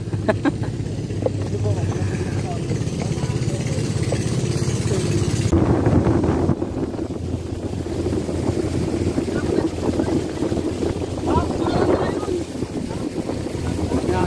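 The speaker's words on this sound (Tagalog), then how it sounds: "first time ko sumakay ng bangka na walang katig" A boat without outriggers motoring across an open lake among mangroves, engine drone and rushing water under steady wind buffeting the microphone, with people talking over it.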